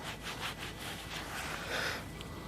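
Dirt being rubbed off a small metal button dug up while metal detecting, a close, steady scratchy rubbing lasting a couple of seconds with no voices.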